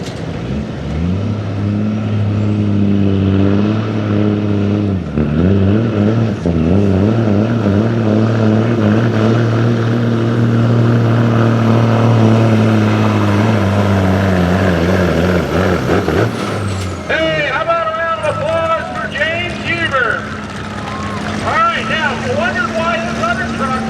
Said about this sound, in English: This is an electronic motor truck.